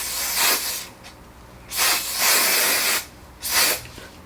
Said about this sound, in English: And I'm just gonna spray this down.